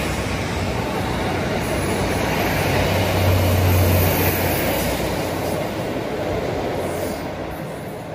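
Two coupled Class 156 diesel units on a Matlock service pass near the Spondon level crossing, producing a loud, continuous rumble and roar that stays steady for several seconds before easing slightly at the end.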